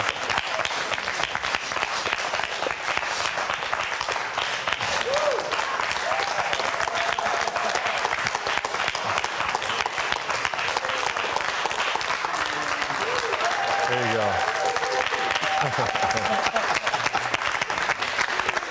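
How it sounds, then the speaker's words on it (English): A studio audience on an interview show applauds, with sustained, dense clapping lasting the whole stretch and loud throughout, with faint voices mixed in. "You guys can clap for me."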